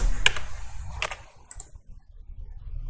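Keystrokes on a computer keyboard while values are entered in Photoshop: a few sharp clicks clustered near the start and around the one-second mark, then softer scattered taps over a low background hum, close and moderately loud.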